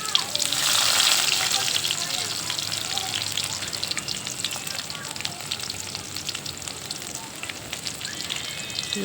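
Onions fry in oil in a pot on a wood-fired stove, producing a loud, continuous crackling sizzle that swells at the start and then settles into a dense, bubbling hiss.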